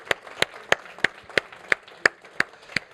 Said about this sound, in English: let's give them a big round of applause for volunteering